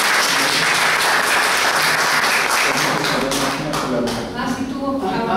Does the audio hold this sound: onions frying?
no